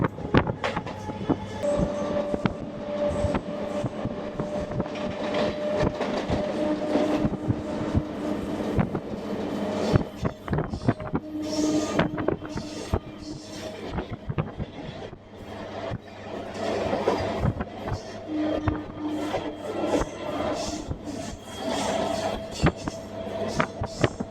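A MEMU passenger train runs on rails between Tenali and Chunduru, its steady rumble and wheel noise filling the carriage, with faint rhythmic clatter and occasional squeals and clanks throughout, no voices.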